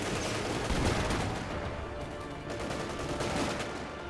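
Dense, continuous gunfire and machine-gun bursts with booming artillery from a Company of Heroes 2 battle with tanks and artillery. The firing is loud and sustained, with rapid overlapping shots throughout.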